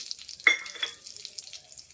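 Urad dal flour, gram flour and wheat flour roast in ghee in a pan for a traditional methi pak, giving a faint, soft sizzle with one brief, close spoon scrape and light stirring noises.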